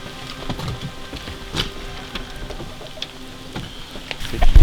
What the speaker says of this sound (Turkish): şu an yağmur yağıyor